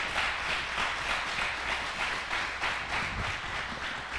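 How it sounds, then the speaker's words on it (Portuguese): A church congregation claps together in a dense, sustained burst of applause, moderately loud and continuous throughout. "Você pode dar um aplauso para Jesus?"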